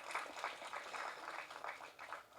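Attendees at a Tamil film press meet give a round of applause, a moderate, steady patter of many hands clapping together, somewhat distant and soft.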